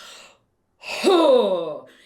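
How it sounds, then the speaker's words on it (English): A person takes an exaggerated, huge, sharp in-breath while demonstrating overbreathing in a singing lesson, a loud close rising gasp lasting about a second, preceded by a brief breathy sound. "And you get this huge breath."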